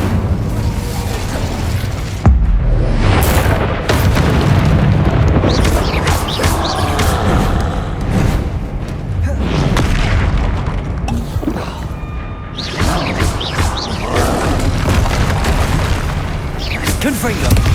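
Spell explosions and booming impacts from Hogwarts Legacy combat, loud and dense with repeated bursts, pops and crashes in a dense game mix over a music bed.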